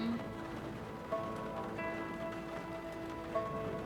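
Steady rain as a background effect during a tabletop role-playing session set in stormy New Orleans, a constant soft patter with faint tonal music-like hums beneath it, no talk.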